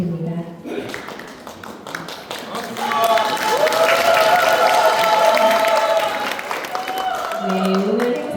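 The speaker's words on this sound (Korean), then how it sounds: "큰 박수 부탁드립니다" Audience applause at a lecture event in Cheongju rises and swells into a sustained crowd clapping through the middle, with a voice speaking over it at the start and again near the end.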